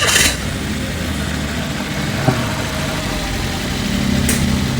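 A Toyota Avanza engine cranking and then settling into a steady, close idle, with a brief sharp knock partway through and the engine note rising slightly near the end.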